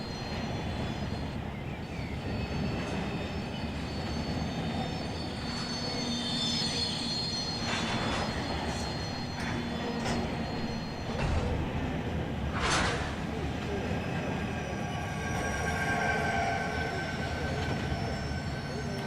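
A downhill freight train in the Run 8 game rolls past with brakes applied, a continuous heavy rumble of wheels on rail under high metallic brake squeals that flare and fade, with no voices.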